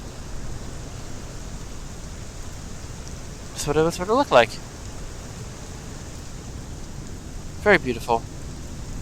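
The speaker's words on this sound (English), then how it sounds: "It is absolutely pouring here." Heavy rain pouring down at Easter Island Airport in Microsoft Flight Simulator 2020, a steady dense hiss throughout with a person speaking briefly over it twice.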